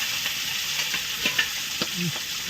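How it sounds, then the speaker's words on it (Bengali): A large rupchanda fish sizzles and crackles steadily in hot oil in a pan, with soft scraping taps from a stirring utensil and no voices. "তো বন্ধুরা, আমরা খুব ভালো করে ভেজে নিয়েছি"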